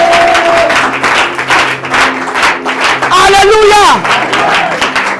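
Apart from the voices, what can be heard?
congregation applauding and acclaiming the Lord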